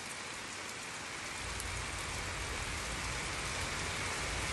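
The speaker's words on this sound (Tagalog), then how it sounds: "Maulan ang panahon." Heavy rain pours down in a dense, continuous hiss that stays loud and even throughout, with no voices or other sounds breaking through.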